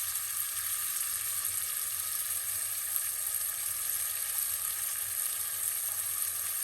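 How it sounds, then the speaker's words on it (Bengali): Tomato chutney with chili flakes and ground cumin cooking in a pan, a steady, even sizzle holding at the same level throughout, close and moderately loud, with no distinct stirring strokes standing out and no talking. "দিয়ে এখন নেড়ে ছেড়ে আমি একটু ঢেকে দিব।"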